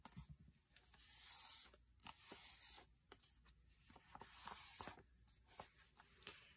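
Glue sprayed onto a bag's side-pocket flap in repeated short bursts of hissing spray, separated by quiet pauses and faint handling clicks, close and moderately soft.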